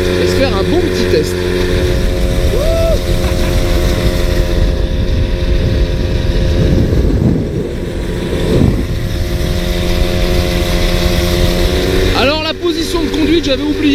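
Two-stroke engine of a 1993 MBK 51 Magnum moped buzzing loudly and steadily while ridden, pitch rising and falling with the throttle, close up with someone talking over it.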